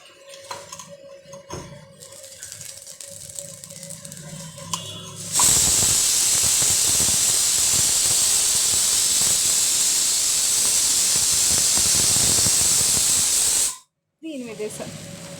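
A lit gas stove with a pan heating on it: a soft, patchy background at first, then a loud, steady hiss that holds for about eight seconds before cutting off abruptly, with faint clinks around it.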